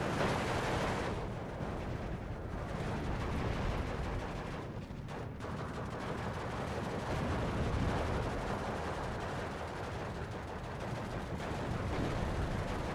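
Dense, continuous small-arms and machine-gun fire from a DP-28 in the WWII strategy game Steel Division, a loud unbroken wall of shots and blasts across the whole stretch with no talk.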